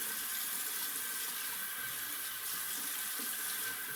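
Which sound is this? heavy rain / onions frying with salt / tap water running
tap water running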